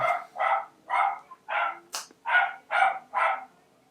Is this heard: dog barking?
yes